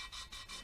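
An engine valve is lapped by hand, worked backwards and forwards against its seat in a Clio 182 Cup cylinder head, giving faint, soft gritty rubbing strokes in a quick steady rhythm.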